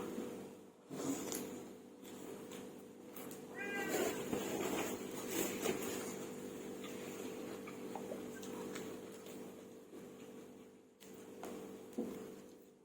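A cat meows a few times indoors, rising wavering calls around the middle, heard over a steady background hum.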